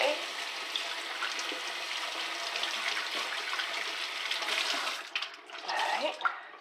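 Tap water running in a sink to wet Envirocloth cleaning cloths, a steady rushing hiss of flowing water close by, with splashing and handling noises toward the end.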